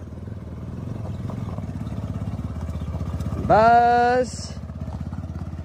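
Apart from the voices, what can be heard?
motorcycle riding on rough village road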